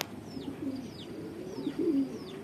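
Soft, low cooing from young homing pigeons in training repeats a few times over steady outdoor background noise, with faint high chirps drifting in above.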